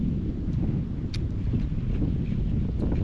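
Wind striking a small boat broadside on the water: a steady, loud rushing roar with gusty buffeting against the microphone, no voices.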